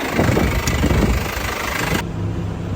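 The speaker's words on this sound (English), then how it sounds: "Running 2 tractors, 2 mowers today." A tractor engine running in a sorghum-sudangrass hay field during mowing, a steady loud rumbling drone close by, with a brief shift in tone partway through and no voices.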